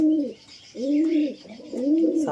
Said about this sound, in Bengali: দেখতে পারো ভয় পাচ্ছে পায়রা দুটো